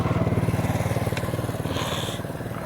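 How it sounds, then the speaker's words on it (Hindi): A motorcycle engine putters with a fast, steady pulsing beat on a rural duck-hunting outing, fairly loud and close throughout, with a faint bird-like chirp briefly over it. "इससे ये मेजर इस साइड से आ रहे हैं बाइक पे, आप देख लें"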